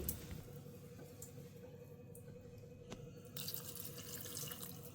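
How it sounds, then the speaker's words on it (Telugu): Water is poured from a glass into a cooking pot holding dal with salt and turmeric for pappu pulusu, a soft steady trickle and splash heard faintly and close throughout. "ఇప్పుడు మనం ఇందులోని 1 గ్లాసున్నర నీళ్లు పోసేసుకున్నామండి"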